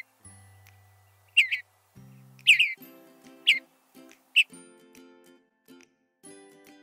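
A series of short, sharp bird chirps and whistles repeating at intervals over faint tonal background notes, clear and fairly close.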